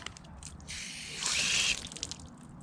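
Water sprays and rinses off a ceramic-coated Volvo car, a steady hiss that grows into a louder gushing burst midway, then drips and trickles quietly.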